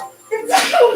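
A single sharp sneeze bursts out after a short quiet breath, bright and fairly close, with a brief trailing sound as it fades.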